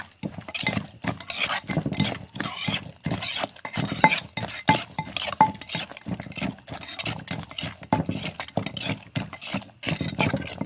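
Steady rhythmic pounding and scraping of a pestle in a mortar as toasted rice is mixed into a Isan-style eggplant dip seasoned with fermented fish sauce, close and continuous with light clinks, no talk.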